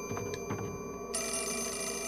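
A telephone bell rings in the survival horror video game Project Zero 4, a steady electric trill that grows fuller and brighter partway through, sounding close and continuous over a low ambient hum.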